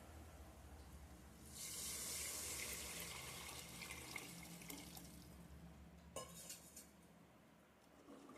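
Water pours from a tap onto vegetables in a cooking pot seasoned with turmeric, chili and salt, a soft steady gush for a few seconds, followed by faint clinks of utensils in a quiet kitchen.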